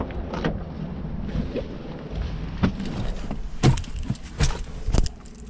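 An old, high-mileage $200 Mazda car is entered, with a jingle of keys, a door and several sharp thumps and clicks as someone gets in, close and with no talking.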